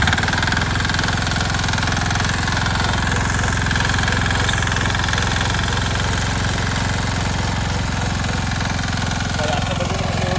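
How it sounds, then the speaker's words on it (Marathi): A tractor runs a reverse rotor across a field being prepared for Napier grass planting, its engine a loud, steady drone close by that holds without a break. "सध्या रिव्हर्स रोटर मारून घेत आहे मी."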